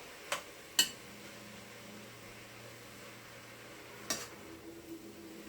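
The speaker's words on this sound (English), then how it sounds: "And you can hear it just sizzling." Quiet, steady sizzling hiss from meat browning in a pot for Creole chili, with a few sharp clinks and scrapes of a utensil.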